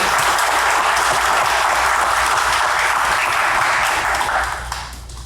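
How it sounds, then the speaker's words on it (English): A press conference audience applauds the panel, a loud, dense wash of clapping held steady for several seconds before thinning out and fading at the end. "Could we have a round of applause for our panel?"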